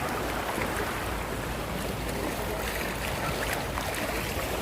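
Big waves break against the shore at Ujung Tanjung, Batam, producing a continuous, loud, broadband wash of surf with no pauses, close to the listener.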